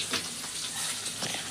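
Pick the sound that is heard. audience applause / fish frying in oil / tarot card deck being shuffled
fish frying in oil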